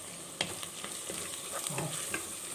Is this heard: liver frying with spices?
yes